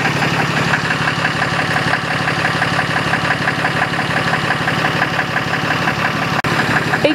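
A 2014 Ram 3500 Laramie Longhorn's 6.7 liter Cummins turbo diesel idling with a steady, loud, close clatter and low rumble that holds even throughout.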